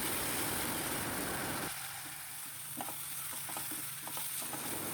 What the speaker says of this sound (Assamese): এতিয়া সেইটো ভালদৰে ভাজি ল'ম।